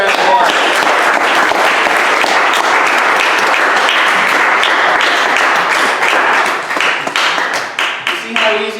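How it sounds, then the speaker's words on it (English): A room full of audience members applauds a Toastmasters speaker, loud dense clapping that holds steady for several seconds before thinning into scattered claps at the end. "Can we give Gilson a round of applause?"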